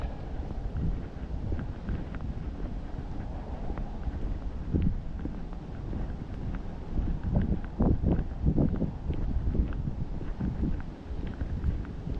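Steady, loud wind buffets the microphone during a cold night walk in Maine at 29 degrees, a continuous low roar with gusty swells and faint footsteps beneath it.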